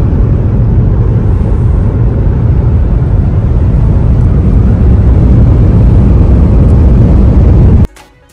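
A smooth car cruising at about 120 km/h on a highway in Croatia, with a steady, loud low road and engine rumble lasting throughout, then cutting off abruptly near the end.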